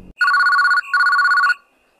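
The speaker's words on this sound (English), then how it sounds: "Glad that the phone call woke me up." A telephone rings in a horror video game, two loud electronic trilling bursts separated by a short gap, then silence, with no talk over it.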